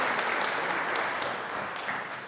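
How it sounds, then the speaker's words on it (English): An audience at an IIT Bombay event claps for about two seconds, a dense, steady burst of applause that tapers slightly toward the end. "A round of applause for Shivani."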